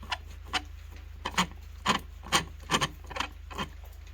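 The stem of a frost-proof hose bib is turned along its threads, giving a series of short, dry scraping rasps at an uneven, steady pace, close and fairly quiet, over a low background hum.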